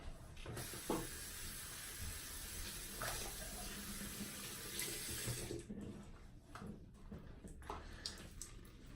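Hot water runs steadily from a tap into a sink, close by, with a few clunks and handling noises as the flow continues.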